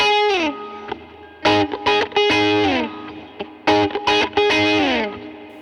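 An electric guitar run through distortion and other effects strums a muted rhythm on one chord in choppy, stop-start bursts, played alone and up close.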